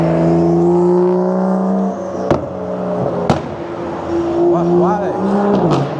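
A car with loud aftermarket exhaust mufflers on a New York City street, its steady engine drone rising and falling as it revs, with sharp transient bangs and other traffic around it.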